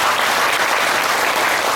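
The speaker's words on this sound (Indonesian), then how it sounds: "Tepuk tangan." An audience claps steadily at a yoga and meditation gathering, with dense, even applause filling the whole moment and no voices on top.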